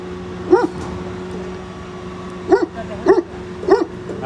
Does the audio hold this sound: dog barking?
yes